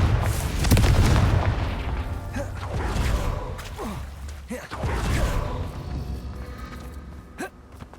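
A Confringo spell blast in Hogwarts Legacy, a low boom near the start followed by softer rumbles and magical crackles, moderately loud, with a voice calling out between effects.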